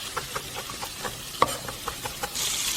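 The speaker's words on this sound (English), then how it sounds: "The trout are in the pan sizzling away" Trout fry in a hot pan of fat, a steady close sizzle broken by regular scraping stirs and a few sharp crackles, with the hiss growing stronger at the end.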